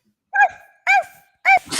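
A person's voice imitating a dog, giving three short, evenly spaced woof-like barks up close, followed by a brief breathy exhale.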